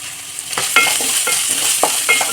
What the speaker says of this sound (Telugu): ఇందులోకి బీన్స్ వేస్తున్నాను, కొన్ని క్యారెట్ ముక్కలు, కొన్ని క్యాప్సికమ్ ముక్కలు